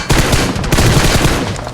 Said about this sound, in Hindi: उसके बाद उन्होंने फायरिंग स्टार्ट कर दी थी।